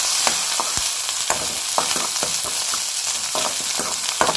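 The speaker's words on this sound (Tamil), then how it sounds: "பச்சை மிளகாய், கருவேப்பிலை ரெண்டையும் சேர்த்து நல்லா வதக்கிக்கிறலாம்." Green chilli and curry leaves sizzle steadily in hot oil in a pan, with soft spoon scrapes and stirring taps breaking through the frying hiss.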